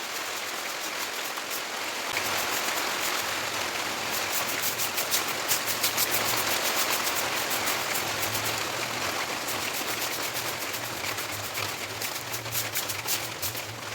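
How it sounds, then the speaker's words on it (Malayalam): Rain begins falling outdoors around a home garden, a steady broadband patter that thickens after the first couple of seconds and holds as a continuous wash of drops with no voices. "ഞാനിവിടെ തൂത്തുകൊണ്ട് നിന്നപ്പം തന്നെ മഴത്തുള്ളികൾ ഇങ്ങനെ വീഴാൻ തുടങ്ങി."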